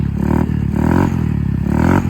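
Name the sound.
motorcycle engine running after starting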